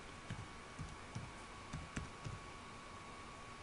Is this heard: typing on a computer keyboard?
yes